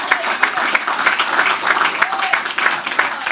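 A church congregation applauds at a worship service, a dense, steady wash of clapping lasting a few seconds with no voices above it.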